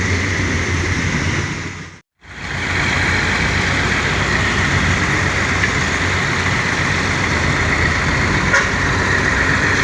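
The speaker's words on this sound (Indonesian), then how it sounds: "Tuh suara mesinnya terdengar masih halus ya teman-teman" ALS 365 bus engine running steadily, a loud continuous broadband drone with a brief dropout near the start, otherwise unbroken and close.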